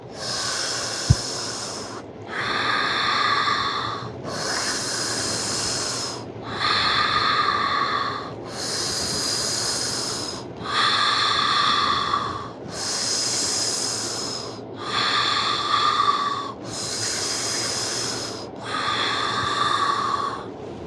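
Deep rhythmic breathing during a fascial breathing exercise, with about ten long breaths each lasting roughly two seconds. Hissy inhales and exhales alternate steadily through the mouth, close and moderately loud, with no talking.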